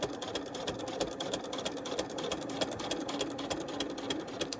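A sewing machine fitted with a walking foot stitches thick fursuit fur, a fast even mechanical chatter of needle strokes humming steadily at close range throughout.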